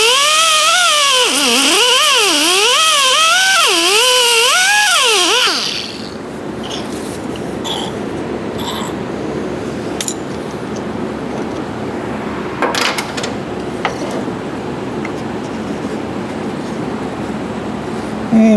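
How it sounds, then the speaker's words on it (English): A grinder cleans up the cut edge of a 2014 Camaro SS dash being fitted into a 1970 El Camino, its loud warbling whine rising and falling for about five seconds before cutting off into quieter shop noise with scattered clicks. "let me clean that up with a grinder just a touch"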